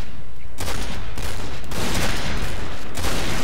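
Suppressed sniper rifle fire in the Point Blank shooter game, several sharp bursts of shots arriving after a brief quiet start and continuing densely, loud and close, with no talking.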